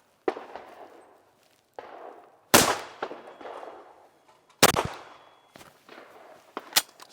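A titanium shotgun fires at orange clay targets outdoors, giving five loud, sharp reports spaced unevenly over several seconds, each trailing into a short echo, with no talking over them.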